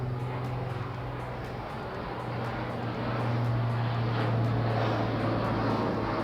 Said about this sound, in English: That's the biggest airplane I think I've ever heard in my life